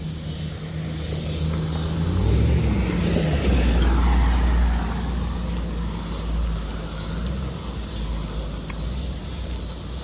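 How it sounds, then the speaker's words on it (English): A car drives past outdoors in a quiet small-town downtown, its engine and tyre noise swelling near the two-to-five-second mark before fading into steady background hum. "Car coming."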